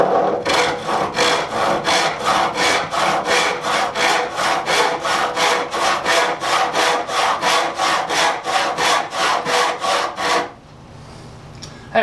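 A hand saw rips through wood in quick, even back-and-forth strokes, close and loud, about two dozen rasping passes before stopping abruptly near the end.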